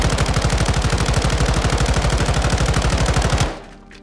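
An M13C assault rifle in Modern Warfare 2 fires one loud, continuous full-auto burst of rapid, evenly spaced shots for about three and a half seconds, then stops with a short fading tail.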